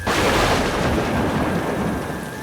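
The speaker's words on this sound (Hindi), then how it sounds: "ऊपर से इतनी तेज़ बारिश हो रही थी" Heavy rain pours steadily in a dense, continuous roar, with a faint low rumble underneath and no voices.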